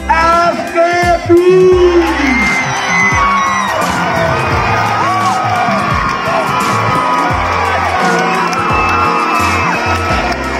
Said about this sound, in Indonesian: Kita berikan tepukan kepada Alkras tempat ketiga